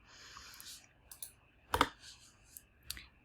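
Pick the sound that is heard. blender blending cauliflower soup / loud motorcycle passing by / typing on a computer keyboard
typing on a computer keyboard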